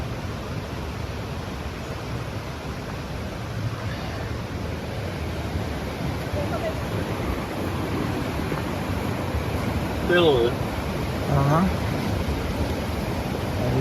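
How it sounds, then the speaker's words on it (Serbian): Warm mineral spring water at Lukovska Banja spa in Serbia bubbles up with a steady, hissing gurgle throughout, while people briefly speak over it. "Vidiš kako brbućka, kako izbija topla, lekovita voda."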